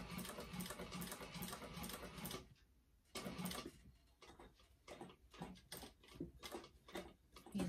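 A sewing machine top-stitches a curve on a bag in quick, steady bursts of rapid ticking, pausing briefly before the needle resumes in shorter, uneven runs as the fabric is eased around, fairly quiet and close.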